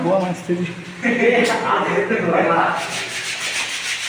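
Workers rubbing down a surface by hand, a steady scraping that runs under close, continuous talk.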